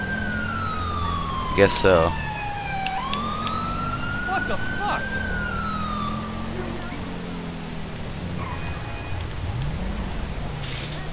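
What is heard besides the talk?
police car siren in video game GTA 5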